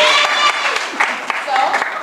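Audience applause at a youth tourism congress in Nevis, a steady wash of clapping filling the room with a few sharper claps standing out.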